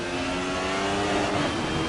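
Race car engine in the Assetto Corsa sim racing game revving high and steady, a loud continuous drone with sustained harmonic whine throughout, no talk.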